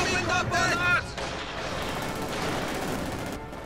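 Mortar blasts and rapid gunfire from a 1v1 Company of Heroes 2 match, a dense continuous wash of explosions and shots with a louder burst in the first second, heard beneath an ongoing commentary voice.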